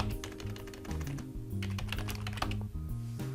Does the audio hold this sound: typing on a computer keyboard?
yes